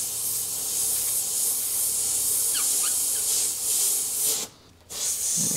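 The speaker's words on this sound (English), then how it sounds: "angle the airbrush so that the air presses that down" Airbrush blowing a steady broadband hiss of air across the edges of paint masking for a torn-metal paint effect, continuous and close, with a brief pause in the spray near the end.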